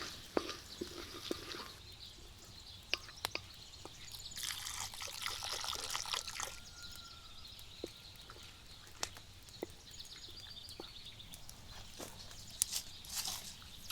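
Water pours and trickles into a stew pot with paprika for a couple of seconds in a quiet room, with a few soft clinks and taps before and after.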